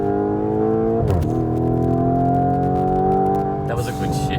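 A Lamborghini Urus in sport mode pulls hard from inside the cabin, its engine droning steadily with a quick gear shift dip and a second shift near the end, while occupants talk over it.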